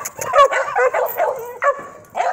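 A puppy barks and yips in short, high, excited bursts with whimpering edges. It is close and loud, about four or five quick calls in rapid succession, and no voices are heard.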